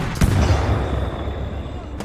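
Grenade blast in the Titanfall 2 shooter game, a single close booming explosion at the start that decays into a rumbling tail, with a second sharp hit at the very end.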